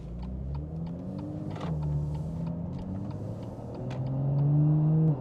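A 2018 BMW M2 driving, engine note steadily rising and shifting through gears with a whirring drone, close from inside the cabin, swelling louder toward the end with faint ticking clicks.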